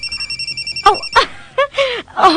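A telephone rings with an incoming call, giving a rapid, regular trill of electronic pulses that stops after under a second as a nearby voice starts talking.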